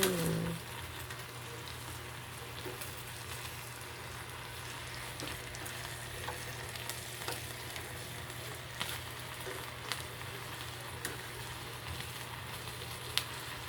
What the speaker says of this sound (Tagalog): Nag-iihaw po ako dito sa plate na in-order ko sa TikTok.